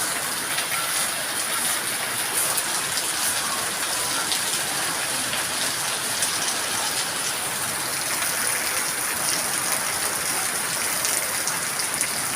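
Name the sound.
torrential rain in a village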